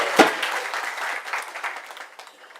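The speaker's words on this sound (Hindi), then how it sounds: "आप सब तालियां बजा के इनका स्वागत करें" A small audience claps in welcome during a devotional gathering, a brief burst of applause that starts sharply and thins out over a couple of seconds.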